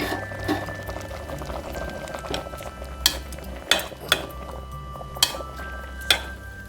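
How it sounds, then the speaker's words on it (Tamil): Pannai keerai greens turned over in a cooking pan, soft scraping and stirring with several sharp utensil clinks against the pan, fairly quiet, with a low background hum and no talking. "இப்படி கீரை திருப்பி விட்டுக்குவோம்"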